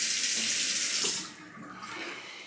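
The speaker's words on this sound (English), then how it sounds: "I'm gonna add a couple more drops of water" Water runs and splashes as a few drops are added to Proraso Green shaving soap while lathering, a steady close trickle that eases off halfway, with no talking.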